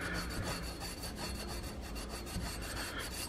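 A Scotch-Brite pad rubbing down a metal part from a Hornady Lock-N-Load AP reloading press on a workbench, a steady, dense scrubbing rasp with quick back-and-forth strokes, close and continuous throughout.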